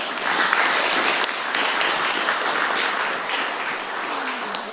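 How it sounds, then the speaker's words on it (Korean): A church congregation applauds steadily to welcome a preacher, dense clapping filling the space for several seconds without pause, with no voices standing out above it. "하나님 앞에 영광의 박수로 환영하겠습니다."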